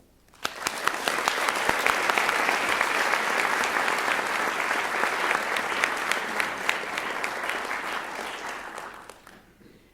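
An audience in a campus lecture hall applauding to welcome lecturer Philippa Levine: steady, dense clapping from a sizeable crowd rises quickly, holds for about eight seconds, then fades out.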